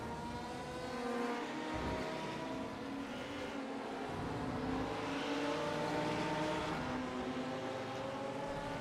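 BMW and Audi race cars lapping Twin Ring Motegi in a sim race, a continuous layered engine drone with shifting pitch from several cars at once, steady and moderately loud, with no talk.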